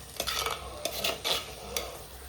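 A spoon stirs ginger-garlic paste and pepper powder into chicken curry in a pan, a few quick scraping clinks against the metal over a soft background sizzle, close by.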